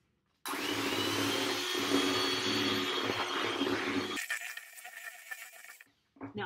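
An electric mixer whirs steadily, beating a cup of flour into cookie dough for pinwheel cookies. The loud motor drone runs for several seconds, then drops to lighter, uneven rattling before cutting off.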